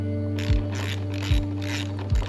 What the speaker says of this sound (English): now I'll be removing these 3 screws that we just revealed